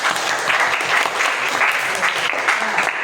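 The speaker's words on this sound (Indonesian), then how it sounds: "tepuk tangan untuk Mbak Latifah." A high-school class bursts into steady, close applause, dense clapping that holds at an even level for a few seconds.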